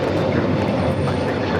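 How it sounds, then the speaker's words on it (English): A Hawaiian Airlines Airbus A321neo takes off at Los Angeles International Airport, a steady, distant-sounding engine rumble with a broad low roar, even in level across a brief moment. "This is Hawaiian Airlines Flight 63 taking off to Livery on the A321neo."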